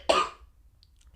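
A single sharp cough, close and loud, bursts out near the start and lasts a fraction of a second, then fades into near silence with a faint low hum.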